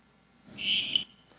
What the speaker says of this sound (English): or this frog croak